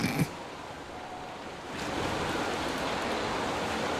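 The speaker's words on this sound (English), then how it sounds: "Nice water flow flowing upwards." Water flowing upwards in the Destiny 2 game, heard as a steady, hissing rush that grows louder after a soft start and then holds even, with no talking over it.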